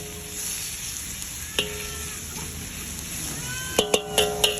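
Minced ginger browning in hot oil for tinola, a steady close sizzle with a few sharp utensil clicks and scrapes near the end.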